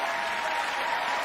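Audience applauding a speech during the State of the Union address, dense sustained clapping from a large chamber crowd, steady and loud throughout the short span with no voices standing out.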